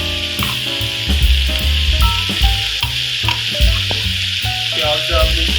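Chopped onion frying in a hot pan for brinjal bharta, a loud continuous sizzle with scraping and stirring strokes of a spoon, and a musical tone running underneath.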